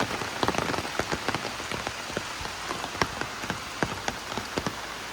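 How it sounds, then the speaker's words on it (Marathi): Steady rain falls on a village in the Konkan region near Sawantwadi, a dense hiss of drops with scattered sharper patters and splats close by, heard alone without any voices. "आता ॲट मोमेंट पण पाऊस पडतोय"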